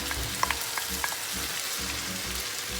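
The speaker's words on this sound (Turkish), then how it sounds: "Şimdi domatesini ekliyorum." Tomatoes sizzle in a hot pan while lasagna sauce is being made, a dense continuous frying hiss with a few light utensil clinks near the start, close up and with no voices.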